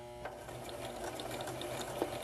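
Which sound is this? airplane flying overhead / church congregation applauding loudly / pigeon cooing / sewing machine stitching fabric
sewing machine stitching fabric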